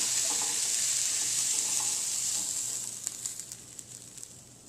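Onions and carrots fry in a hot pot with a bright, steady hiss. The sizzle fades slightly toward the end while a few soft stirring clicks and scrapes sound close by, and no one speaks.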